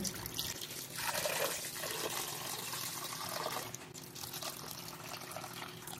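Cold water pours into a pot holding chicken for Hainanese chicken, a rushing, splashing fill that swells early, then settles into a steadier, quieter stream.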